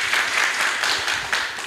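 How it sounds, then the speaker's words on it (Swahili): Audience applause at a live ward candidates' debate, a dense burst of clapping from a crowd held steady and loud for under two seconds. "Tupigie makofi."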